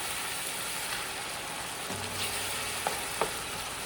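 Spinach being mixed in a pot after cooking covered, a steady sizzling hiss throughout with a few soft scraping strokes and brief clicks near the end, no talking.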